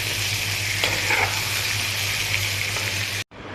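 Steady, loud sizzling of red amaranth greens and green chilies frying in a hot pan, with a brief clatter of stirring, then a sudden cut to near silence at the end.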